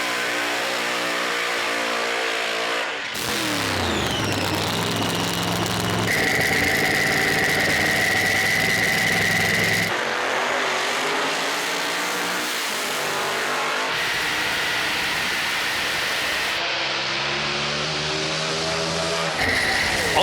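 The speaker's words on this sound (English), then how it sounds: "Wayne Yearbury, in his top doorslammer Studebaker, fries the bags after a season's absence." Top doorslammer Studebaker drag car doing a tire-smoking burnout at a drag racing event, a loud sustained engine roar with rising and falling revs across the whole stretch, heard close with no talking.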